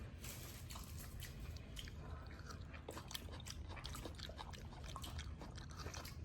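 Close, steady chewing and biting of a pickled chayote slice eaten raw at a Vietnam street food stall, with soft wet crunches and squishes over a constant street hubbub.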